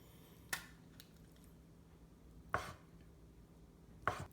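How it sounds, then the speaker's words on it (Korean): Three crisp knife strokes slicing Spam on a cutting board, spaced about two seconds and then one and a half seconds apart, each a sharp close tap against quiet kitchen background. "스팸 같은 거 하나 잘라서 넣어보도록 하겠습니다"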